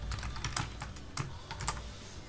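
Fingers type on a computer keyboard up close, a steady patter of light key clicks with a few louder taps, irregular in rhythm and without any voices.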